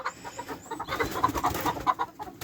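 Soft, repeated clucking from a cockerel close by, a steady run of short low calls with no talking.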